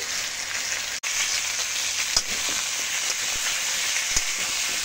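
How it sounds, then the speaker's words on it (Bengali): Potatoes frying in hot oil in a wok with salt and turmeric, a steady, close, dense sizzle running throughout with a couple of brief clicks and no talking. "আলুটা আমি এবার ভেজে নেব নুন হলুদ দিয়ে।"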